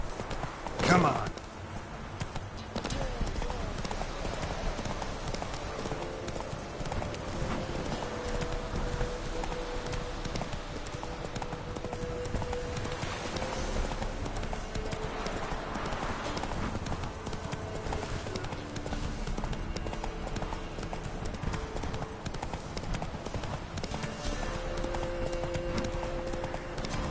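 Roach, a horse in The Witcher 3, gallops in a steady, rapid clip-clop of hooves that runs throughout, with game sounds and voices talking over it.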